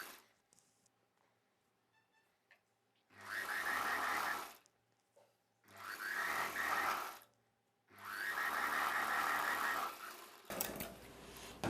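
A sewing machine stitches a seam along a gown piece in three steady runs of about a second and a half each, separated by short quiet pauses, with no one speaking.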